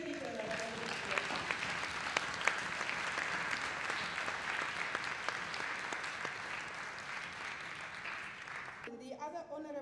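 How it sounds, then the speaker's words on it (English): Sustained audience applause at an environmental policy award ceremony, a dense, even wash of many hands clapping for about nine seconds before it fades and a voice begins to speak. "Can we give them a round of applause?"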